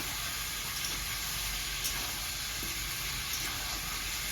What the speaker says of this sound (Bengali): এরকম করে ভেজে নিতে হবে রসুন আর গোটা জিরি দিয়ে